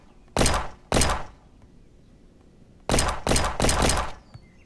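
Pistol shots fired in the Roblox Jailbreak video game, two sharp bursts followed by a quick run of three more, loud and close with no talking.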